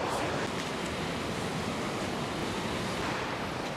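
Strong wind buffets the microphone on Ballito beach on the stormy coast, a loud, steady roar of gusting air and surf with no pauses, close and overwhelming throughout.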